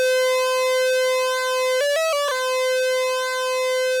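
A Pittsburgh Modular Lifeform SV-1b analog desktop synth plays a steady, loud buzzy pulse-wave tone, stepping briefly up and down in pitch in the middle before settling back on the held note, with no talking.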